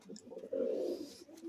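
Pigeons coo softly nearby in a short, low rolling burst that swells in the middle, with faint ambient noise around it.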